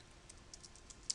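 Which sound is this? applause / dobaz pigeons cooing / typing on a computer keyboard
typing on a computer keyboard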